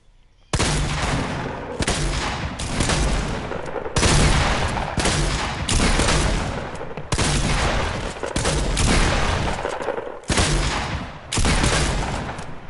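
Sustained heavy gunfire in Fortnite playground mode, a dense, loud barrage of rapid shots in long bursts separated by brief pauses, running for the whole stretch with no voices.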